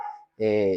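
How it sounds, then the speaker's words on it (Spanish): Pet dogs barking indoors at home, a short burst of loud, close, harmonic barks after a brief murmur, with no speech over them. "mis perritos están ladrando"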